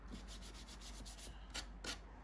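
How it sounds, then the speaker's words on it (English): Sandpaper is rubbed by hand over a small wooden project in quiet, close, rhythmic strokes, with a couple of slightly stronger passes near the end. "I'm just going over it with some more sandpaper"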